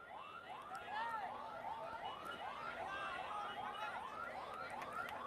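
Ambulance siren wails in steady repeating up-and-down sweeps as it passes through a crowded political rally in Tiruppathur, moderately loud over crowd murmur and amplified speech.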